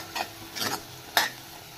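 A small spice-box spoon stirs garam masala into a dal palak base in a pan: three quick scraping strokes over a faint sizzle, close and clear with no talking.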